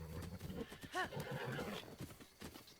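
A horse whinnies in the Breath of the Wild video game, one clear rising-and-falling neigh near the middle, over hoof clops and background game sound with faint talk.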